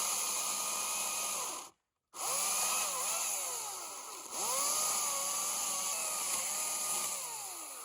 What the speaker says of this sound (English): I wonder if this is the first Humboldt undercut ever made with an electric chainsaw.